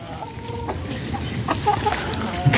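Rhode Island Red chickens being fed, with scattered soft clucks and short calls close by over a busy farmyard background murmur.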